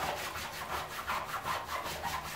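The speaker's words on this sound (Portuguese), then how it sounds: "E aí a gente vem e esfrega aos poucos." A wet goalkeeper glove is scrubbed by hand during washing, producing a steady, soft rhythmic rubbing and swishing of damp material, close and fairly quiet, with no talking.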